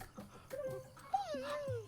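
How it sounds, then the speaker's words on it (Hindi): A dog whimpers and yips in short high whines with a rising and falling pitch, heard close amid a tense indoor scene with voices speaking around it. "कुत्ता है ये।"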